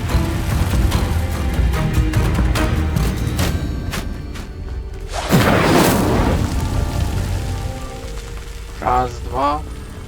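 In Hogwarts Legacy, an Incendio fire spell erupts midway as a sudden roaring, whooshing burst of flame, loud against a rumbling, rain-like game ambience, followed by brief chirping effects.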